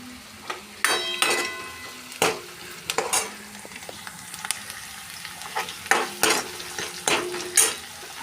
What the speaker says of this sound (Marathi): कांदा आणि लसूण भाजून घेते